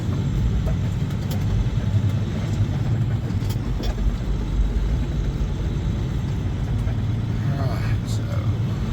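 A pickup truck's engine runs steadily with a low, continuous rumble throughout, close and fairly loud, while people talk over it.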